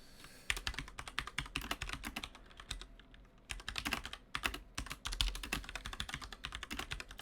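Rapid, irregular keystrokes on a computer keyboard while typing a command, close and clear with short pauses between bursts, and no talking.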